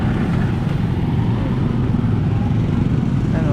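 Steady road traffic rumbles by with passing cars and motorcycles on a provincial road, a continuous loud engine and tire wash without clear breaks between vehicles.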